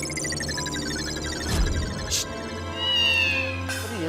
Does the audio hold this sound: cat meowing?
yes